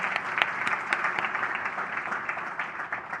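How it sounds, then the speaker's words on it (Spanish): An audience applauds a health minister at a studio interview event: moderate, steady clapping with some individually audible claps, lasting a few seconds with no talking. "voy a pedir un aplauso para usted por acompañarnos hoy"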